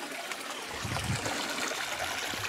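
Icy spring water trickles steadily out of rock from under the ground beside a mountain lake in Crimea, a soft close flow with a slightly heavier splash partway through.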